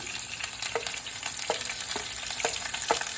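Curry leaves, garlic and ginger frying in hot oil in a pan: a dense, continuous loud sizzle with regular spoon scrapes and taps as the mixture is stirred, close and without talk.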